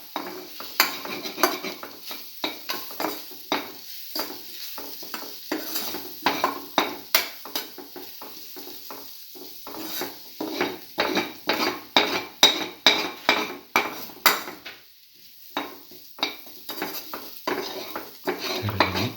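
Eggs are scrambled into a sizzling cinnamon coconut stir-fry mixture in a pan, with rapid rhythmic clinks and scrapes of a utensil against metal over a steady frying hiss, dropping quiet briefly near the end before resuming.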